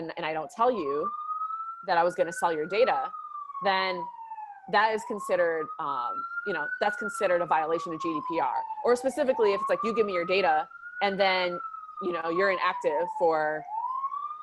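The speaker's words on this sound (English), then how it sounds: "please excuse the siren going by." Wailing emergency vehicle siren in New York City, its rising and falling tone sweeping steadily and moderately loud beneath someone talking throughout.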